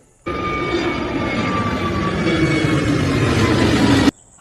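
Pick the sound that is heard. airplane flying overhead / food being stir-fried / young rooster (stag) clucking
airplane flying overhead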